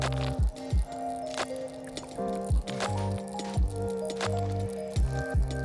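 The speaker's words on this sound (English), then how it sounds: "there's a mixer in the bottle here that's gonna shake things up as I shake this for 15 seconds" A mixer ball rattles inside a bottle of wheel ceramic coating shaken by hand, a string of rhythmic sloshing, knocking thumps repeating roughly every half second, close and fairly loud.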